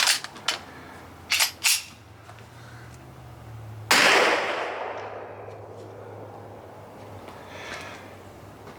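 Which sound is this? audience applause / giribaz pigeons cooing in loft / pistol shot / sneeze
pistol shot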